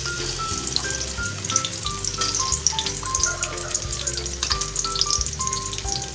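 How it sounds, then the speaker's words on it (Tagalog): Garlic frying in a pan for pork relleno, a loud, continuous close sizzle with a background of music and no talk. "Isa na natin guys, maglalagay na tayo ng bawang."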